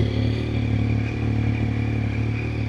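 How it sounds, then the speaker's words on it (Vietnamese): A Yamaha Tracer 09 motorcycle idles loudly and up close, its exhaust giving a steady, throbbing low burble with a rattly edge. "Để mình bịch cái bô này cho anh em nghe ha."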